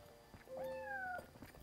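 A cat meows in Yonder: The Cloud Catcher Chronicles, one drawn-out, rising then slightly falling call about two-thirds of a second long, close and clear over a quiet game soundscape.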